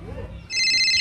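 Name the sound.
telephone ringing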